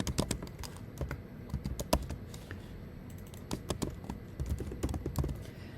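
Rapid clatter of keys on a computer keyboard as a layer name is entered in Illustrator, a close, fairly quiet burst of uneven taps running throughout.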